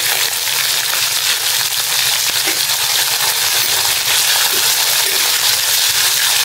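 A steady, loud sizzle of dried red chillies, whole cumin and chopped onion frying in hot oil for a Bengali village chicken kosha, a continuous hiss filling the whole stretch without pauses.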